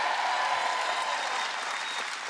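Audience applause at a stand-up comedy gala, a brief, even burst of many hands clapping that fades slightly toward the end, with no voices over it.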